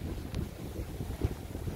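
Gusty wind buffets the microphone at a lakeside campground, a steady rumbling roar with a few sharper thumps and no speech.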